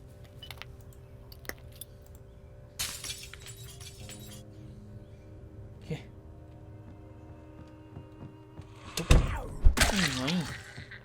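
A few brief crunches and clinks of breaking glass sound in Project Zomboid, ending in a louder cluster of shattering near the end.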